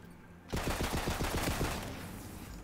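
A corrosive SMG fires a rapid burst of about a dozen shots in the video game Tiny Tina's Wonderlands. The burst is loud and close and trails into a fading echo.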